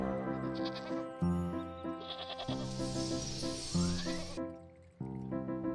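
Sheep in the video game Wytchwood bleat in a rapid string of wavering, nasal calls that overlap with bright, tuneful game music, close and clear with no talking.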